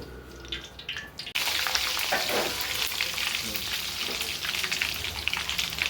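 Mustard seeds, dry red chillies and cumin hit hot oil for Uttara Kannada style avalakki chivda. After a quiet start the sizzle bursts in loudly and keeps up a dense, steady crackle.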